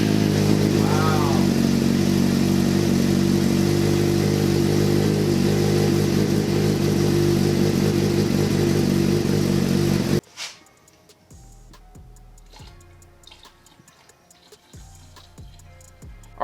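A 100 hp crosskart engine runs loud and close with a rough, steady roar for about ten seconds, then cuts off abruptly, leaving quieter knocks and mechanical clatter.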